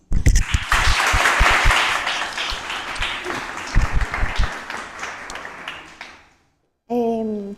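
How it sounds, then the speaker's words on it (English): Audience applause for a student presenter at an English-language project session: dense clapping with some sharp individual claps, thinning out and stopping before a voice starts talking. "So, a set of applause for her, please."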